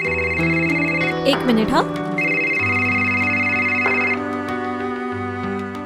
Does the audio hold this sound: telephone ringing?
yes